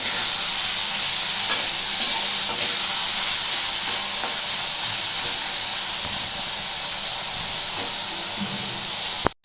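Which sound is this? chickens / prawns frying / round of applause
prawns frying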